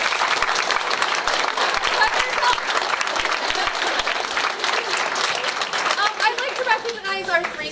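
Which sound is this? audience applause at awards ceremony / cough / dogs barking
audience applause at awards ceremony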